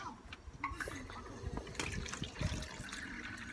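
Water runs from a tap while a container is filled at a camper, a soft rushing trickle with light splashes under a voice that talks over it.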